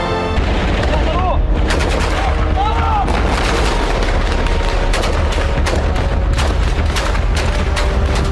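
Heavy gunfire from Hamas fighters in war news footage: loud, dense bursts of sharp reports over a constant roar of noise, with voices mixed in.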